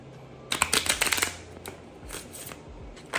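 Playing cards being shuffled, a quick run of crisp riffling clicks that builds to a dense flutter for about a second, then lighter scattered snaps and slides close to the microphone, with no talking.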